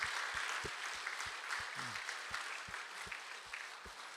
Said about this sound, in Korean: 우리 마음을 담아서 환영하는 우리 축복의 박수를 하겠습니다